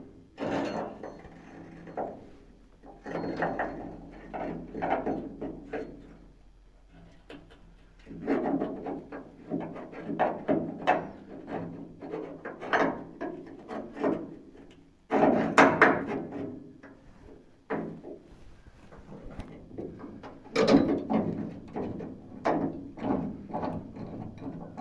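A bolt is threaded in to press a plate flat while working on a 1948 Willys pickup. It makes repeated close metallic clinks, knocks and scraping clatter in irregular bursts, with brief pauses between.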